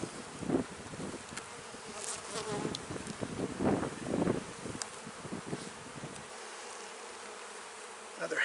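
Honeybees buzz densely around a hive frame full of brood, a close, continuous swarm hum with individual bees passing near, fading somewhat toward the end.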